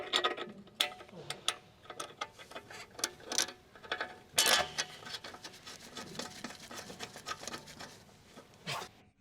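A mounting bolt goes into a BMW 325ci top mount, with a scattered run of quick metallic ticks, clicks and ratchet-like rattles at close range and a sharper clatter midway, with no speech.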